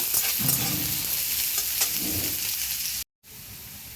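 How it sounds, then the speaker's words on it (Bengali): Chopped onion frying in hot oil for a banana-flower chop, a steady close sizzle with occasional stirring scrapes, briefly cutting out near the end before resuming. "পেঁয়াজটা ভেজে নেব"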